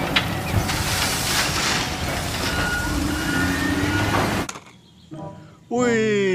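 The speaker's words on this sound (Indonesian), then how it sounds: "Wih, mobil truk tangki teman-teman" A tank truck hauling mineral water drives past with a loud, broad engine and road roar that drops away abruptly, followed by brief quieter passages and a toy-like warbling tone near the end.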